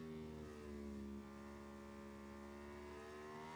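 A MotoGP 21 racing motorcycle at the Algarve circuit, its engine note dropping steadily as it brakes into a corner, a continuous loud whine with strong harmonics and no talk over it.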